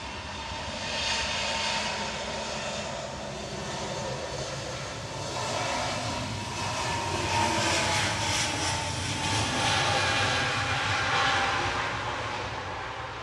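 An Ethiopian Airlines plane on pushback at Manchester Airport gives off a steady, broad jet engine roar that swells slightly midway and stays distant but constant, with no talk.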